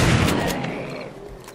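A homemade shotgun blast in 7 Days To Die against zombies, one loud close boom at the start decaying into a rumbling tail with fainter follow-up sounds.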